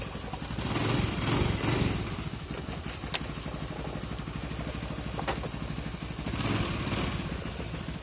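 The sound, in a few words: Honda Vario Techno motorcycle engine running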